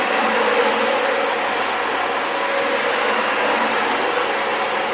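A Dyson DC25 upright vacuum cleaner runs steadily with its exhaust vents blowing, giving a loud, constant whooshing roar with a whining motor tone and no letup.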